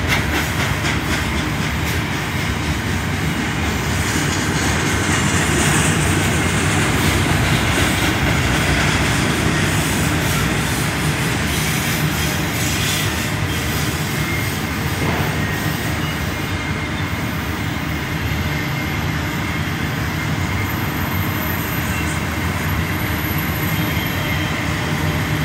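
A long CSX westbound freight train pulled by a single engine rolls past through McKeesport, a steady, loud rumble of wheels and rail noise sustained throughout with no talking.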